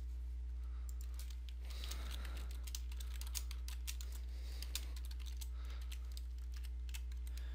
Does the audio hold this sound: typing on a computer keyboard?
yes